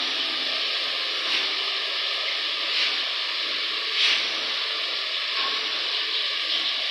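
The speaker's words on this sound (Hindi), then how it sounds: "आलू की हो गया भुनाई, अब हम इसमें डालेंगे पालक।" Potatoes fry in a pan for aloo palak as blended spinach goes in, giving a steady, loud, close hiss and sizzle with a few slight swells and no talking.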